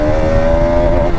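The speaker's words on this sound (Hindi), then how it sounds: "रोरिंग एग्जॉस्ट नोट है" A Bajaj Pulsar RS 200 BS6 motorcycle's exhaust emits a steady, loud droning hum, held near and continuous for a moment with no talk over it.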